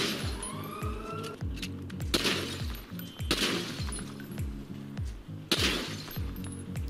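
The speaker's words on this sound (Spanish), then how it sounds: "Vemos que la ventana se rompe igual." Window glass shatters repeatedly in GTA V on PlayStation, with several sharp crashing bursts over a steady rhythmic idling engine and a faint siren.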